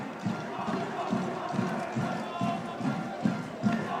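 A crowd roars after a schoolboys' rugby final in Palmerston North, Rotorua Boys' High School against Feilding High School, a dense, sustained mass of cheering with rhythmic thumps, as of stamping or clapping, running through it.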